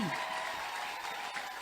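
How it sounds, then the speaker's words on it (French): Congregation applauding during a Sunday church service: steady, dense clapping from a crowd, moderately loud and continuous, with voices over it. "Acclamez pour le Saint-Esprit."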